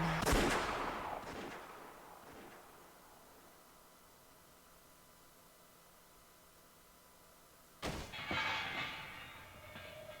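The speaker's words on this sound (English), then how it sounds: "She pulled the trigger without a trace of mercy." A burst of gunfire opens in the video game Umineko When They Cry, then a long quiet stretch, followed by another loud crack with ringing, noisy aftermath near the end.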